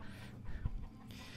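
A rooster and a hen cluck softly in a rural countryside setting, faint and distant, with a short burst of clucking under light wind and outdoor background noise.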